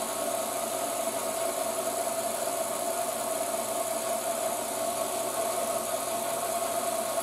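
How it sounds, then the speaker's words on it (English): A vacuum diffusion pump runs during lamp-making, giving a continuous, even hum and hiss with a steady tonal whine, unchanging and moderately loud with no other sounds. "then that's being pumped out by the diffusion pump"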